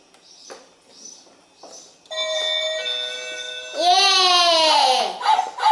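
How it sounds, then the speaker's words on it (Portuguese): A toy doorbell in a gift box rings close by, playing sustained electronic chime tones that end in a rising and falling warble, after a few soft taps and a faint voice. "E eu toco campainha de verdade."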